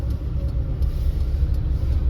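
A car idles in first gear in bumper-to-bumper night traffic, giving a steady, low, close rumble with faint surrounding road noise and no voices.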